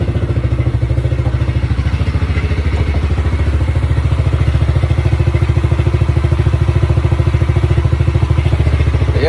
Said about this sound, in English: yeah, it runs.